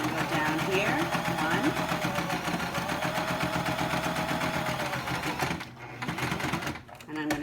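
A sewing machine top-stitches around the edge of a pleated fabric face mask, a steady continuous mechanical whir running for about five seconds before stopping and restarting briefly, with talk over it.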